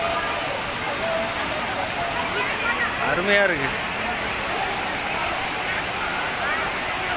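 Thirumoorthy waterfall pouring down in full seasonal flow, a loud, steady roar of falling water with a crowd nearby; someone speaks briefly over it.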